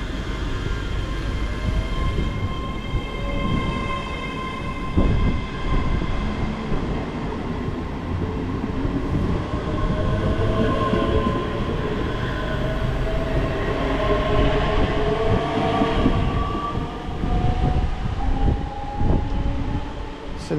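A train pulls out of Longniddry station toward North Berwick, with a continuous loud rumble of wheels on rails, rising tonal whine and faint squeal as it departs, no voices.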